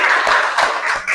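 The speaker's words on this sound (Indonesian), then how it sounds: "Tepuk tangan untuk kita semua." An audience claps after classroom presentations, steady applause throughout with rhythmic pulses, fairly loud and close.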